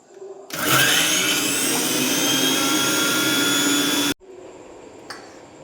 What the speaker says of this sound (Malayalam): ഇനി നമുക്ക് മിക്സിയിലോട്ട് അരച്ചെടുക്കാം.